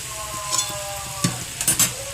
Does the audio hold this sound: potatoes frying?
yes